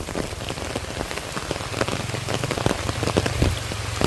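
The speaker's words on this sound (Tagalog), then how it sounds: "Tapos nung bandang alas 4 biglang umulan." Rain falls steadily on a surface, a dense, even patter of close drops with no voices.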